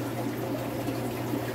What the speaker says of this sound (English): Got a few sponge filters and a sump running this.